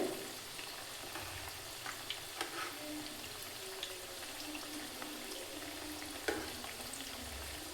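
Chana dal masala vada fritters frying in hot oil over a medium flame, a steady soft crackling sizzle with occasional sharper pops, close and fairly quiet, with no voices.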